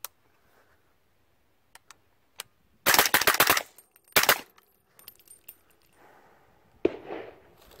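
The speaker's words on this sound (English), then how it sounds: "So I'll just do a quick mag dump off this, and we'll just keep going." A suppressed 300 AAC Blackout rifle fires at an outdoor range: a few single shots, then two fast bursts of rapid fire, each loud and sharp, with faint movement sounds between.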